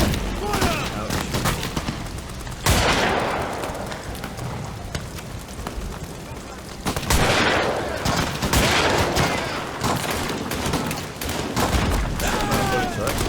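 Gunfire in the horror game Amnesia: The Bunker, loud bursts and sharp cracks in rough clusters, with a heavy blast near the start and another midway, over a dense, noisy backdrop.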